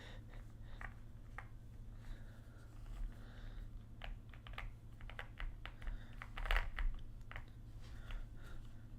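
A wet computer keyboard being handled close by, quiet irregular plastic clicks and taps scattered over a soft background hum, with one brief louder clatter.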